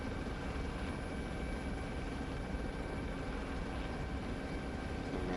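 A simulated helicopter hovers over a runway in a flight simulator, giving a steady, even rotor and engine drone that stays constant throughout with no voices.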